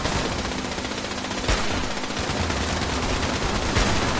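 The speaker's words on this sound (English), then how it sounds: "That's why I'm sitting behind cover shooting the damn thing." Loud, sustained rapid gunfire from the video game Fallout 76 fills the clip, a dense continuous burst of shots with occasional sharper cracks.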